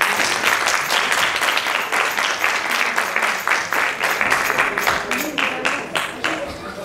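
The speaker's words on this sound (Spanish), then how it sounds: "Un fuerte aplauso." A crowd at a carnival group competition in Castellar de la Frontera applauds loudly and steadily, dense clapping filling the whole stretch with voices faintly mixed in.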